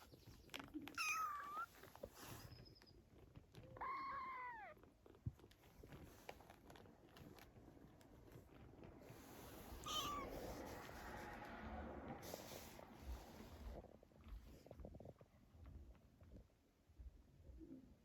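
Two abandoned kittens meowing to be fed, several thin high cries spread through the clip amid shuffling, nearby handling noise and faint background birds.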